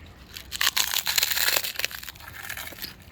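A steady run of crisp crunching and crackling as pork rinds are bitten and chewed up close, lasting a few seconds.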